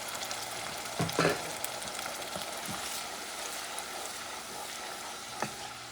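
Tomato sauce sizzling and frying in a pan with chickpeas and cod, a steady crackling hiss with a few louder stirring bursts near the start.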